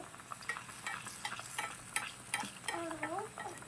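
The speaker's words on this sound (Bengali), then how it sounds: "দ্বিতীয় বেগুনিটাও নুরায়া দিয়ে দিয়েছে তেলের মধ্যে" Brinjal fritters (begun vaja) fry in hot oil, a crackling, popping sizzle heard close with irregular spits and stirring noises, no voices.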